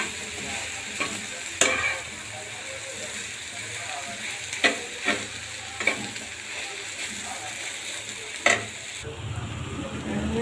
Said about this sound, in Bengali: ভেন্ডি ভাজিটা নেড়ে দিছি ভালো করে